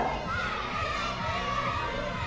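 Crowd of children shouting and cheering together at a children's show in a hall, a dense continuous roar of young voices with no pauses.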